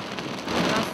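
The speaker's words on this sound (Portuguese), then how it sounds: "Foram horas de chuva forte." Heavy rain pours down in Manaus, a dense, steady broadband hiss that swells slightly louder toward the end of the brief moment.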